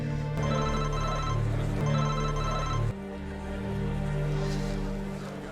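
A telephone rings after redial on Craig's phone, giving a repeating electronic ring in two bursts, loud and close, with no talking over it.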